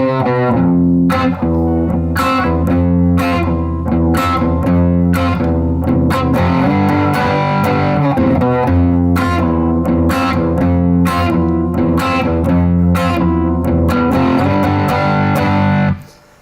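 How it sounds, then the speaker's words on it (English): Heavily distorted electric guitar chugs through a driving pre-chorus riff, loud and continuous with sharp rhythmic accents, ending abruptly. "I'm going to turn up a little bit for some more distortion,"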